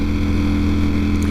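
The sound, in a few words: Ducati Streetfighter V4S motorcycle engine riding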